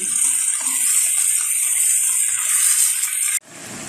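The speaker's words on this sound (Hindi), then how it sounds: "एक गिलास पानी डालकर" A glass of water pours in a steady, hissing stream into a pot of sautéed spices and mutton on the stove for a few seconds, then stops abruptly, leaving a faint residual trickle.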